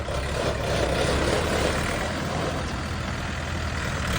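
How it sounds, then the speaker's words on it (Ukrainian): A heavy Orion 504 tractor engine idles steadily nearby, a low rumbling drone that holds constant throughout with no voices. "Оце трактор."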